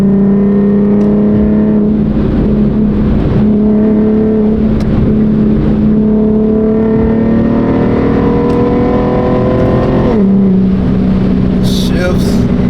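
An Infiniti car engine coasting down from inside the cabin: a deep, steady drone whose pitch drifts slowly, with a sudden drop near the end like a gear change, loud and close throughout.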